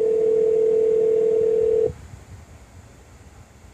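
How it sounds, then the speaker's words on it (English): A car phone places a call in a Ford, starting with a steady single-pitch dial tone that cuts off abruptly, then leaving only quiet cabin hiss with a faint click at the end. "we're just gonna call them and let them know that we're just doing a little test here"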